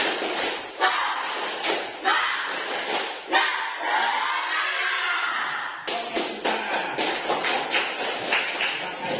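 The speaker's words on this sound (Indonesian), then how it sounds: "Tepuk semangat" A school class claps in unison in a brisk rhythmic spirit clap, sharp group claps landing in quick patterned bursts, with some shouting and a short lull partway through.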